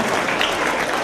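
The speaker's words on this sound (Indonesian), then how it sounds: "kita bagi tepukan gemuruh kepada beliau" Dense, even applause from an audience at a national launch ceremony for a government programme, continuous throughout the short stretch.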